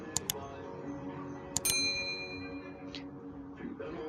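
Short bright dings and metallic clinks ring out in quick pairs, a notification-bell sound effect, faint and sparse with brief gaps and light background noise between hits.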